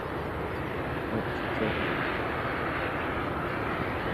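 An ATR turboprop landing at Leeds Bradford Airport gives a steady, broad engine roar that runs evenly throughout at moderate distance, with no voices over it.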